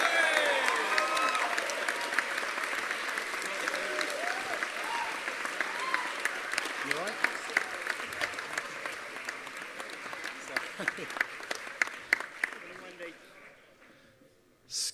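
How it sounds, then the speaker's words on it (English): Sustained applause from a crowd at a BIMM Institute Brighton graduation ceremony, dense steady clapping that continues for several seconds before tapering off near the end, with some voices mixed in. "A big round of applause for your event head, Wendy Law."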